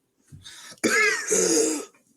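Two harsh coughs close to the microphone, a short soft one followed by a longer, louder hacking burst, with quiet moments before and after.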